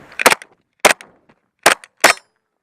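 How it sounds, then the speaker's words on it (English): Four sharp pistol shots from a Glock 29SF firing .40 caliber ammunition outdoors, loud and close, in an irregular rhythm with short gaps and quick decay, no talking. "I'm shooting 40 cal ammo"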